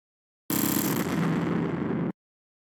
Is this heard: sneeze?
no